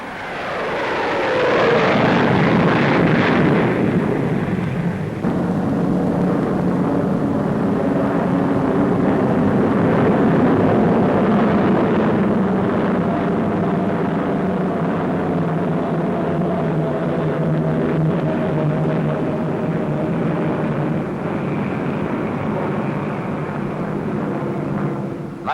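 An Avro Vulcan delta-wing bomber flies over Farnborough in a long, loud, steady jet roar that swells early and then holds as a broad rumble with droning tones, no voices.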